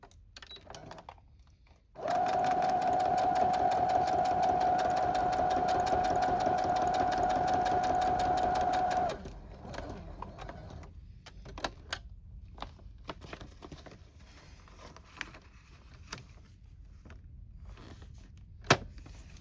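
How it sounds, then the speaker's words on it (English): A sewing machine runs steadily for about seven seconds, stitching decorative seams on journal pockets, then stops, leaving quiet background with a few faint clicks and handling noises. "And we got one more piece to do of the decorative sewing."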